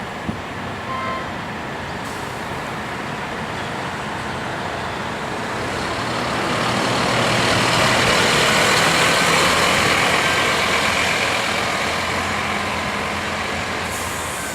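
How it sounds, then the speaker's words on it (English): A route 101 bus pulls away from a bus interchange in Bedford Park, Adelaide, its engine rumble and roar building loudly over several seconds and then holding steady amid road noise, no talking. "The 101 bus has dropped its passengers off and picked up the next lot of passengers and moved on."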